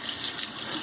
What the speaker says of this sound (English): Now rinse and see what the residual slickness feels like.